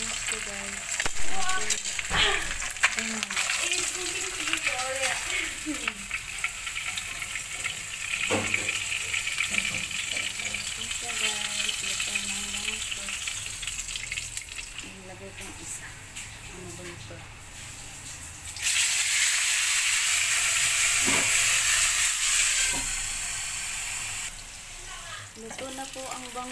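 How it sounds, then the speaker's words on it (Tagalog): Milkfish (bangus) frying in hot oil in a pan, a steady close sizzle with crackles running throughout, growing louder and brighter partway through, with voices talking over it at times. "Ang pritong bangus."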